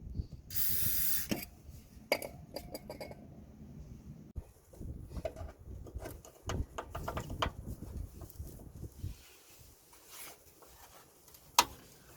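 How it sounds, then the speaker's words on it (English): WD-40 sprayed from an aerosol can onto a clamp under a Toyota Yaris Vitz during ABS sensor cable work: one sharp close hiss at the start, then scattered clanks and handling noises. "just gonna apply some WD-40"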